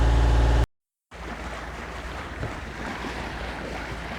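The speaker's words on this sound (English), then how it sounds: "we've had to put the engine on, unfortunately" Sailboat motoring under engine power on open sea off Dominica in calm, windless conditions, a steady broadband rumble of engine, hull and water rushing past, with wind noise on the microphone and a brief dropout near the start.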